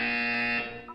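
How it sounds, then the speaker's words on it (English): Buzzer tone from the video game Portal 2, a steady loud harmonic buzz holding for about half a second before fading, with faint chiming notes at the end. "You will hear a buzzer. When you hear the buzzer, look down at the floor."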